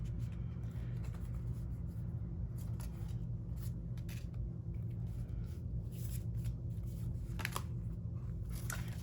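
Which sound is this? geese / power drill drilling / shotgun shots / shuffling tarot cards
shuffling tarot cards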